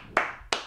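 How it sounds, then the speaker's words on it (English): Two sharp hand claps, close and dry, spaced about a third of a second apart. "sometimes you get to be the lucky person to start a clap at a concert"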